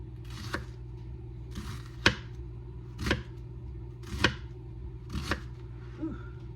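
A knife chops onion for meatloaf on a cutting board, five crisp, evenly spaced strikes about a second apart, close and clear over a steady low kitchen hum.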